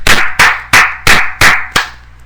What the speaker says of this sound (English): This is a golf clap.